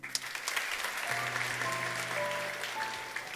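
Audience clapping at a church Easter celebration service, dense and sustained applause from a crowd with soft musical tones underneath, at moderate level.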